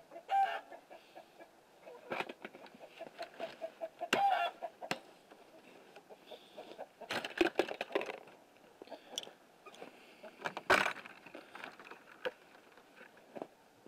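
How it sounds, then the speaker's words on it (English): A rooster in a chicken coop squawks and clucks in repeated bursts over roughly fourteen seconds, with sharper, louder calls standing out near the middle and end amid softer background fowl noise. "Got Mr. Rooster in here squawking away."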